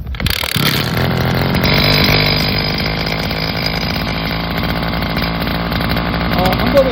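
A two-stroke brush cutter engine catches after a brief pull and then runs steadily at a loud, buzzing idle close by, with speech-like tonal bands over the constant drone.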